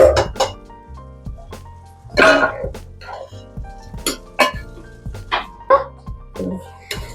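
Rice with mutton keema being stirred and fried in a pot for pulao, a utensil clanking and scraping against the metal in irregular close knocks, with faint background sounds between strokes.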